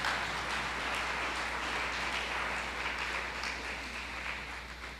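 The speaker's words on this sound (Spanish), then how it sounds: "un aplauso a este hombre maravilloso" A church congregation breaks into sustained applause, a dense, steady wash of many hands clapping that holds for about five seconds before easing off slightly at the end.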